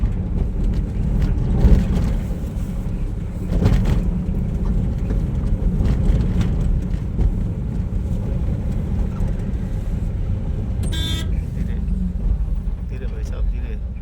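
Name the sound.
car passing suddenly on a road, honking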